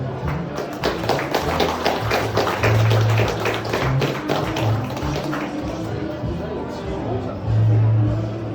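Audience applauding a speaker at a community gathering, many hands clapping in a sustained, close burst, with crowd chatter and speech running underneath.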